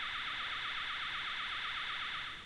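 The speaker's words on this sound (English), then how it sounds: "if I go ahead and trigger an alarm right now by changing something into manual" An Allpax control system alarm sounds as a steady, warbling electronic tone, loud and continuous before trailing off at the end.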